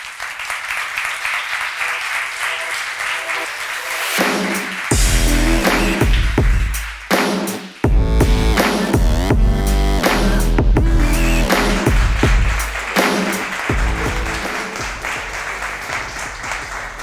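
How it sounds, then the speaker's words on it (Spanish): An audience applauds at a business conference on digital personalization, with a long, loud, dense burst of clapping and some tonal sound mixed in that swells and dips over the whole stretch. "Aplauso incluso antes,"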